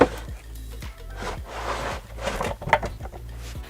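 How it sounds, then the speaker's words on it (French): The lid of an above-ground pool's filter housing is screwed back on, giving a steady series of short plastic ratcheting clicks and rubbing turns, close and fairly quiet, with no talk. "On la fixe solidement au fond avant de remettre en place le couvercle et de bien le visser"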